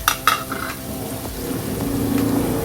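Mustard seeds, bay leaf and onion drop into hot leftover oil for fish curry, with a few sharp metallic utensil clinks at first, then a steady sizzle that builds and keeps going.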